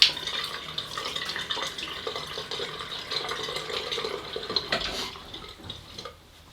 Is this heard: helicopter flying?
no